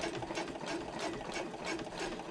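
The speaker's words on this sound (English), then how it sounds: "back stitch a small amount right here, just 1 or 2 stitches here" A sewing machine runs steadily, back stitching and top stitching a panel for a handbag, its rapid mechanical whirring and clatter continuing close and unbroken with no talk.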